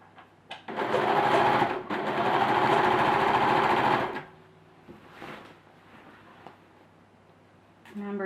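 A sewing machine stitches a dress seam joining the back of a sleeve to the back of the dress, running in one steady loud burst of about three seconds, then stopping for quieter handling sounds and a brief restart.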